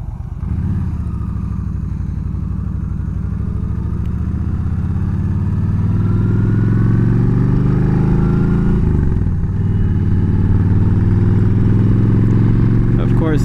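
Motorcycle with a Freedom shield on a Reckless fairing, running on the stock spring and a progressive shock, ridden two up: a loud engine drone rises and holds steady under continuous rider speech, then dips briefly near the end.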